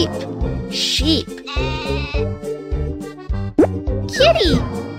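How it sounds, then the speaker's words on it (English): A cartoon sheep bleats in short wavering calls over playful children's music with plopping effects, a voice briefly joining in. "Sheep. Sheep."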